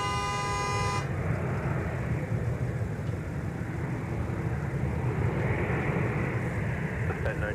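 A Southwest airliner arriving from Chicago Midway rumbles at MSP airport as a broad, steady jet roar heard from a distance, with a brief tonal beep at the start.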